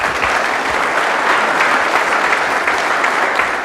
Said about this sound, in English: So give a big round of applause for Michael Schratt.